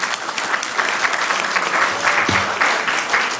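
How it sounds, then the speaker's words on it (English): Applause from the audience at a Sacramento city council meeting, a steady dense wash of clapping lasting the whole few seconds, moderately loud and even, with no talk over it. "That deserves a big round of applause."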